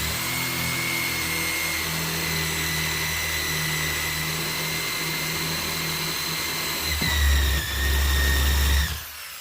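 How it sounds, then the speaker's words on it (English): A step drill bit cutting into a sandblasting cabinet up to about 8 mm, a steady close whine with a deeper motor tone that swells and bogs near the end before stopping. "And a step drill."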